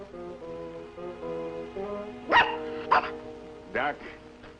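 A dog lets out a few loud, sharp barks in a short burst, with a low drone underneath and some talk around them.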